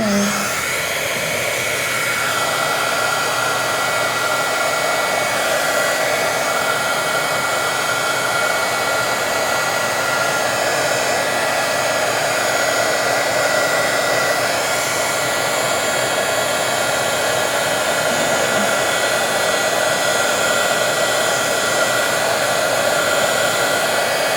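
A heat gun blows a loud, continuous, even hiss and whine while melting embossing powder, steady from start to finish with no talking.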